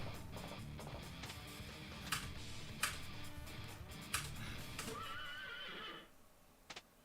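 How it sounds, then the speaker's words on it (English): A horse whinnies loudly with a shrill, quavering neigh, accompanied by sharp hoof clops and clicks, ending in near quiet. "horse sound effect just makes me laugh every time"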